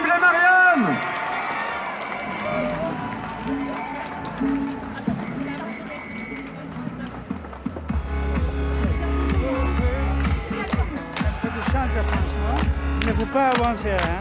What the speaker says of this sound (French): Un tonnerre d'applaudissements pour les Mariannes